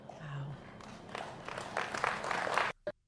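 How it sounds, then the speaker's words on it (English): Thin, scattered applause from roughly ten people, patchy and uneven, swelling briefly before cutting off abruptly, with a lone trailing clap or two after a short gap. "It's like 10 people applauding"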